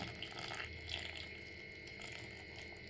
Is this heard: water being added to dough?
yes